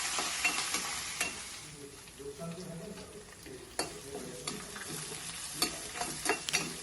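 Dried red chillies and freshly picked curry leaves fry in hot oil for a tempering, giving a steady, fairly quiet sizzle and crackle with occasional sharper pops and stirring clicks, and no voices.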